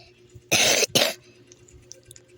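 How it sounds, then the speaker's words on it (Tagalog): Two sharp coughs in quick succession, close and loud, followed by quiet with faint background noise. "May ubo talaga ako"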